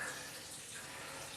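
Tap water runs steadily into a bathroom sink while a razor is rinsed, a soft constant gush with no speech.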